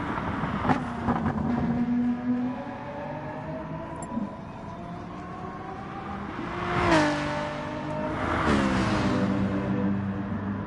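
Citroen rally car engines in a racing game, revving and whining as cars pass, with two louder swells of engine noise sweeping by around the middle and end over a continuous engine drone.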